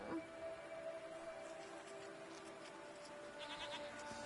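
Goats bleating in the video game Season: A Letter to the Future, several short calls over a steady ambient music bed, fairly quiet and unaccompanied by speech.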